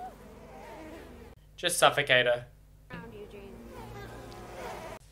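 A low, steady buzzing of bees hums throughout, with a person speaking briefly over it in the middle.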